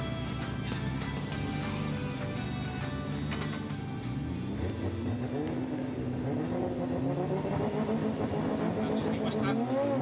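Drift cars, one a Toyota GR86, accelerating away at the start of a Formula Drift Japan top 32 battle at Sportsland Sugo, engines rising steadily in pitch under continuous commentary, loud and sustained throughout.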